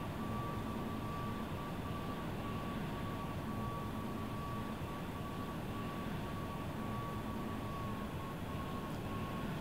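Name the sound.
jet aircraft taxiing on carrier deck, Strike Fighters 2 video game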